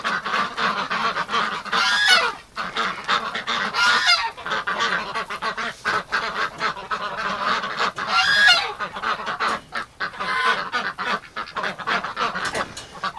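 A flock of ducks quacks and honks continuously indoors in -45°C winter, many birds calling at once in a loud, busy clamor with no talking.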